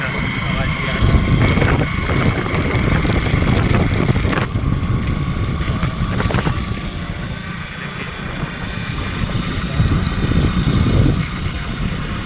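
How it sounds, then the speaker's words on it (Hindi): A motorcycle engine while riding along a road, a steady loud drone with wind rush throughout, recorded close up on a handheld phone without speech. "बाइक का आवाज भी आ रहा"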